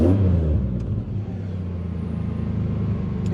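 A 1999 Pontiac Grand Prix GTP engine runs at a steady idle, a low continuous rumble with an even mechanical pulse, close by and without voices.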